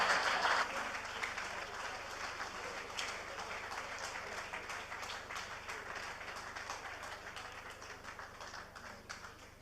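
Audience applause at a business lunch, loud at first and then gradually fading as the clapping thins out, with no voices over it.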